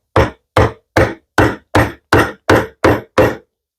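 A steel chisel struck with a mallet and driven into wood during hand-tool joinery for a TV unit, nine sharp, evenly spaced knocks in a steady rhythm, loud and close with no voices.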